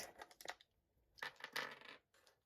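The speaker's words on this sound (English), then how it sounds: "Let's roll the dice" Dice rolled for a board game clatter in two short bursts, a quick rattle followed after a pause by a longer tumbling clatter, close and fairly quiet.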